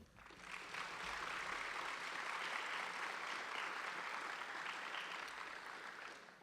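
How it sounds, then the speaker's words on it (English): An audience at a scholars' graduation ceremony applauding, a dense, steady wash of many hands clapping that swells in quickly, holds for several seconds, then tapers off. "I really think we all should give Congressman Rogers a huge round of applause for creating this program."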